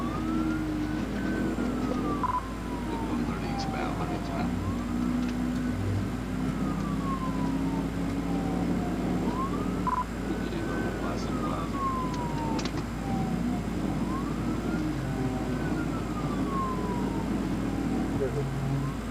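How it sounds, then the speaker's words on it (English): Arkansas State Police car sirens wail in slow rising and falling sweeps that repeat steadily throughout, loud and continuous over road and engine rumble, with a voice talking at times. "Sirens wail"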